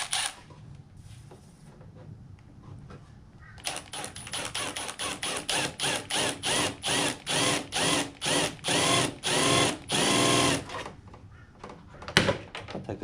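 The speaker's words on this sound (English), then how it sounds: "The old step drill bit, just quietly." A step drill bit grinds through metal on a race motorcycle in a series of short, regular bursts, each a harsh whirring buzz, with quieter scraping before and a sharp clack at the end.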